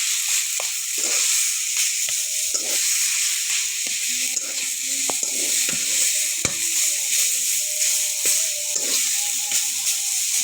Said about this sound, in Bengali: এখন আমি শাক রান্না করতেছি এখন আমার শাক রান্নাটা কাঁচা কাঁচামরিচ রসুন দিয়ে দিলাম